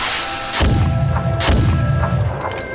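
Ceremonial firecracker cannon blasts in a Chinese palace drama, two loud booming reports about a second apart, each with a rumbling decay, no talking.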